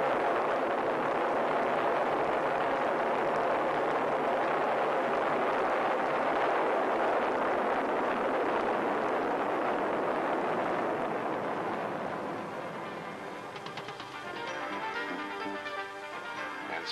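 A loud, continuous rocket engine roar at a launch fills the whole stretch, a broad steady rumble that eases slightly near the end as it recedes.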